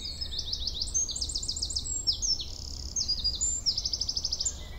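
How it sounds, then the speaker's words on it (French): A song thrush sings from a marsh in the Belledonne massif, giving repeated bright, chirping phrases close by. Its song sits over a low, steady background hum. "Nous avons rendez-vous avec la grive musicienne, première à vocaliser."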